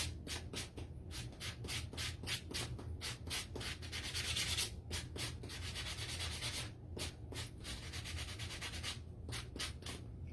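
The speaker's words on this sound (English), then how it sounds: "sand this a little bit." Hand sanding a piece of farmhouse-style witch decor: steady rhythmic scratchy strokes, close and continuous, with no talking.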